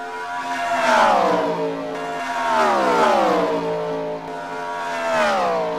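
NASCAR stock cars roar past at the finish line of a custom Cup race, with overlapping engine notes rising and falling in pitch as cars sweep by one after another, loud and sustained.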